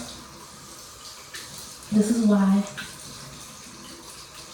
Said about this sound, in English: I love washing my face with cold water